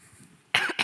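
A person coughs twice in quick succession, loud and close, following a quiet stretch of faint room noise.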